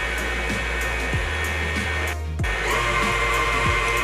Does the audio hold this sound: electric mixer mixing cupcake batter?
yes